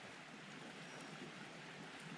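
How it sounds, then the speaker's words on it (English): A river flows steadily past an early-spring wilderness campsite at night, a continuous broadband rush of moving water with faint wind noise, fairly quiet and unbroken throughout. "Sound of the river."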